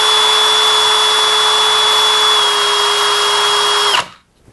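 A cordless hammer drill driver whines steadily at a high, constant pitch, loud and close, then cuts off abruptly near the end, leaving near silence.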